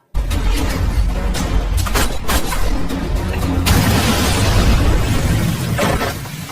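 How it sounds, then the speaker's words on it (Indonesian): Dense film battle noise with repeated sharp bursts and booms, followed by a large rolling grenade explosion that swells and lingers. "Gauzan terpaksa menjatuhkan dirinya untuk menghindari sebuah ledakan haranat."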